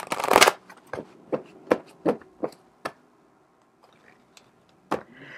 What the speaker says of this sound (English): I'm still going to shuffle because it kind of flipped out.